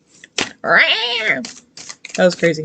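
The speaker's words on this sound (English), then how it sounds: "That was a cat in my backyard." A cat meowing outdoors in a backyard, a few close, drawn-out cries broken by short gaps, with a person speaking around them.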